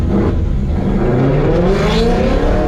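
A Camaro race car roars past at the finish of a spectator match race, its loud engine note rising in pitch as it drives by close, steady and dominant with no talk over it.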